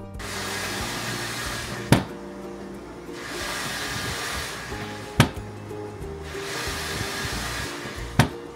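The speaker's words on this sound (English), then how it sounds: "Having an enclosure also allows for quiet printing." An enclosed Creality K2 Plus 3D printer at work: a steady, soft whooshing fan and motor hiss rising and falling in long swells, with three sharp clicks spaced a few seconds apart.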